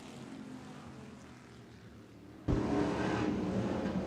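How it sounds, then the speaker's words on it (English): Hobby stock race cars roar around the oval at Wagner Speedway, a steady engine drone that swells suddenly louder partway through as the pack passes close, with no talk. "Nick Jansen's going to try to find the high side around the racetrack"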